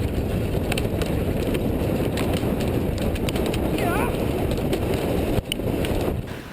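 Chuckwagon racing horses galloping on a racetrack, a dense, continuous drumming of hooves with rushing wind noise, loud and close throughout.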